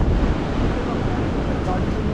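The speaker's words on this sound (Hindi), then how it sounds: "और तेरी वाटरफॉल आ गया" Steady rushing water of a waterfall beside a mountain road on the Adi Kailash route near Om Parvat, a broadband roar held constant and fairly close with no distinct breaks.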